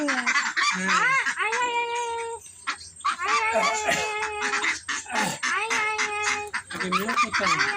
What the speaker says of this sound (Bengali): এই হাঁসগুলো বিক্রি হয়